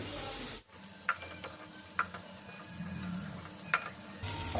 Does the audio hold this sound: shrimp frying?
yes